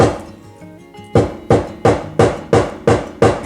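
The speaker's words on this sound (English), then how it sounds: "pound it a little harder." A hammer pounds flowers onto wool for eco-printing, the strikes landing in a steady series of eight sharp blows at close range, each one thudding and then fading quickly.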